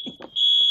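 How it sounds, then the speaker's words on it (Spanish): A fire alarm goes off during a live broadcast. Its piercing electronic tone is steady and loud, and brief faint voice sounds come just before it rises to full strength. "está sonando una alarma de fuego"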